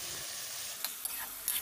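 Salt, turmeric, cumin and chili powder sizzle in a hot pan with a steady, hissing crackle, close by, broken by a few light scrapes or taps, with no talking.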